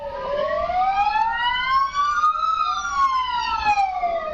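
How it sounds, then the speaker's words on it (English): Police car sirens wail continuously in a rising and falling pattern, with several overlapping sirens loud and close as they close in during a night-time chase of a Ford Laser in Smithfield Plains, with road noise beneath. "Sirens blaring, police cars close in on the wanted Ford Laser."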